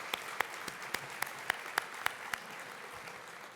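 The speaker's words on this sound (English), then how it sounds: "let's have a round of applause" Audience applause at the State of METRO 2019 event, a soft, distant clapping wash punctuated by a regular series of sharper individual claps near the front.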